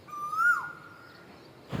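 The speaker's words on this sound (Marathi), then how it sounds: "सकाळी सकाळी उठल्याबरोबर असा प्राण्यांचा, पक्ष्यांचा आवाज ऐकला ना, खरंच खूप भारी वाटतं" Morning call of a bird in a village, a single drawn-out whistled note that rises and then slides down and fades, clear and close over quiet surroundings, with a short noise burst at the end.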